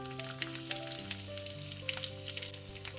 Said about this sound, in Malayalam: ഈ സവാളയൊന്ന് വഴറ്റിയെടുക്കണം.